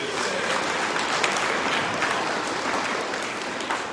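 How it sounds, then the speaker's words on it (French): A congregation at Sunday Mass applauds the Saint-Damien choir, a dense, steady clapping that fills the church evenly from start to finish, with no voices over it. "On peut les applaudir parce que"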